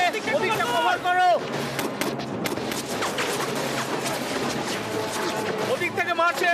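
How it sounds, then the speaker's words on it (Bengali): Gunfire cracks out in a scene from Hancock (2008), dubbed into Bengali, with scattered bursts of shots mixed with voices and action noise. "ওদিক থেকে মারছে ওদিক থেকে আছে ওদিক থেকে গুলি করছে"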